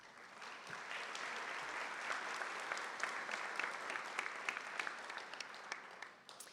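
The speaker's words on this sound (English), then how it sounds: "Please give them a huge round of applause for their hard work and achievements" Audience applause for students at a high school Seal of Biliteracy recognition ceremony, a steady wash of many hands clapping from a mid-distance, sustained for several seconds before tapering off.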